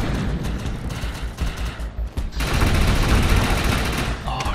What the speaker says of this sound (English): Oh god, I love this rifle.